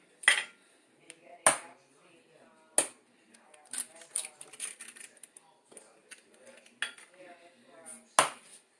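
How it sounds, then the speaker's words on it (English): Eggs being cracked and mixed in a cup: sharp clinking taps of shell and utensil against the cup at irregular intervals, close and clear, with softer scraping and handling noises between and a voice talking intermittently. "What I'm going to do is mix up 3 eggs."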